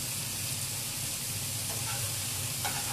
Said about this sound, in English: I'm letting my sauce cook so it'll thicken just a little bit more.